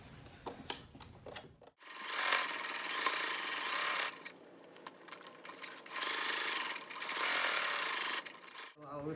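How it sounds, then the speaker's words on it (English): Sewing machine top stitching a quilted pencil case, two long runs of steady mechanical whirring and needle chatter, close and even, preceded by fabric handling and brief taps. "I'll go ahead and top stitch."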